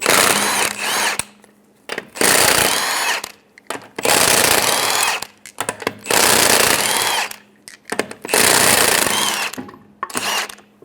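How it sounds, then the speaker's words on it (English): Power tool fitted with a 19mm socket spinning off lug nuts on a 2003-2008 Honda Pilot, loud bursts of whirring and rattling repeated about five times with short pauses between. "Using a 19mm socket, we're going to remove the lug nuts."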